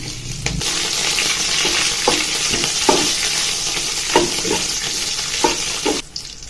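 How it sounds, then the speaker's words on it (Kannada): Garlic and chillies fry in hot oil with a steady, close sizzle, while a spoon stirs and taps against the pan in irregular scrapes. "ಬೆಳ್ಳುಳ್ಳಿ ಸ್ವಲ್ಪ ಫ್ರೈ ಆಗಬೇಕು ಎಣ್ಣೆಲೆಲ್ಲ"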